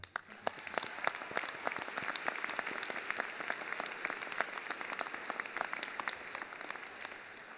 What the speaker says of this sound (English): I also think that deserves a cyclone applause